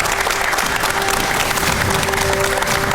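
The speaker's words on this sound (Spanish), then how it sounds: "un aplauso para todos" A studio audience applauds at the close of a television programme, a loud, unbroken wash of clapping throughout, with a faint steady tone underneath.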